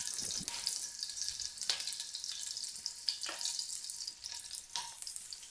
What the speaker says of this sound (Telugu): ఇప్పుడు ముందుగా చిల్లీస్ వేసుకున్నాం. చిప్పట్లాడేంత వరకు ఫ్రై చేయాలి.